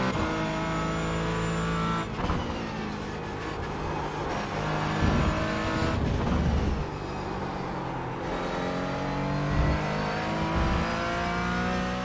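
A Porsche Cayman GT4 in the iRacing sim racing game holds a loud, continuous engine note under throttle, with its pitch climbing and dipping through gear changes and occasional tire noise.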